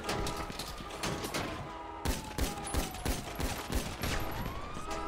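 Rapid bursts of gunfire in a GTA roleplay shootout, dense volleys of shots cracking repeatedly over a steady din of game sound and a faint siren, loud and continuous throughout.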